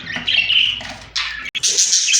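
Budgerigars, including newly bought females, squawk and chirp in a series of harsh, close bursts with brief pauses, bright and fairly loud, with no talking.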